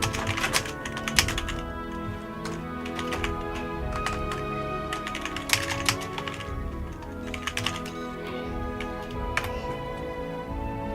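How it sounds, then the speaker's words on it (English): Steady typing on a computer keyboard, quick clustered keystrokes with brief pauses, close and moderately loud over faint background music. "Let me just type this out first."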